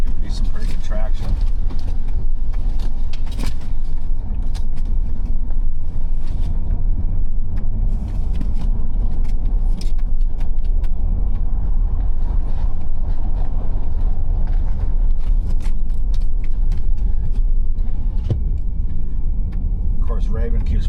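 A pickup truck loaded with weight in the back drives along an icy road during an ice storm, giving a steady rumbling engine and road noise with rattles, while a person talks throughout.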